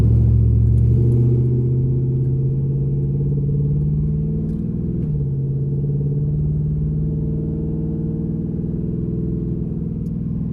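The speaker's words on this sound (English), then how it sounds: "see how it's just like acting real shitty during the idle" A 408ci stroker LS V8 in a Trans Am idles roughly and close by, a steady low rumble with an uneven, lumpy pulse that sags and wavers throughout, with no one talking.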